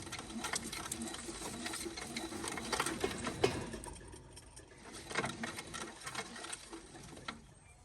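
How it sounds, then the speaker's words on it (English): A 1927 Chevy truck engine with the spark plugs out is turned over by hand crank, giving a steady, rapid mechanical clatter and ticking with no compression, continuous and close. "We're gonna give her a whirl, and I probably should have left that thing jacked up because it makes it a lot easier to hand crank."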